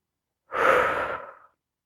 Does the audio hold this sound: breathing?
yes